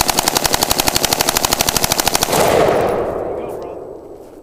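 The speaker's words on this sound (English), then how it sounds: "Firing in automatic mode, a 30-round magazine is empty in less than 3 seconds." An automatic weapon firing full auto empties a 30-round magazine in one rapid, evenly spaced burst of loud sharp shots lasting over two seconds, followed by a rolling echo that slowly fades.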